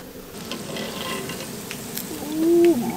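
Steady sizzling of crappie fish frying in hot oil, a close crackling hiss with a brief high tone near the end.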